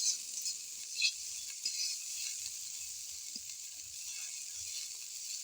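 Soft scraping and stirring of flattened rice and vegetable khichuri in a pan, faint irregular spoon strokes over a light sizzle, with no voices.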